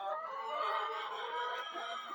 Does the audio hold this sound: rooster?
yes